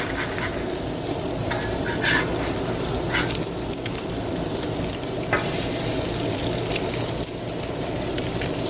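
Eggs sizzling steadily on a hot Blackstone griddle outdoors, a close, dense crackle with occasional scraping from a spatula.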